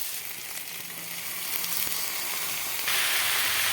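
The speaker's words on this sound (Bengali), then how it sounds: "ভালো করে ভেজে ভেজে কষিয়ে নেব লাল লাল করে" Chopped vegetables with leafy greens frying in a pan, a steady close sizzle that grows slightly louder and brighter toward the end, heard alone without talk.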